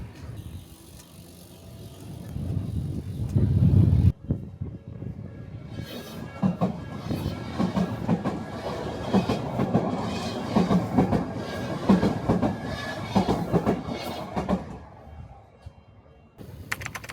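A train rolling on rails toward Odawara in Japan, a steady broadband rumble with rhythmic clattering that holds for most of the stretch, loud and close, with a sharp shift partway through and fading near the end.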